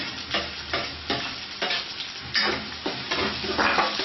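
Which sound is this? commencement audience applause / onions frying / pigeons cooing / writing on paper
onions frying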